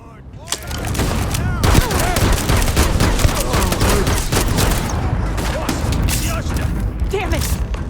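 Dense, continuous gunfire in a Starfield firefight, loud and close, with rapid overlapping shots and booms from start to finish and voices shouting beneath the barrage.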